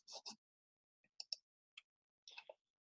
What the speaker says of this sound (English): if you hear some clicking noises, my heater is starting up in the background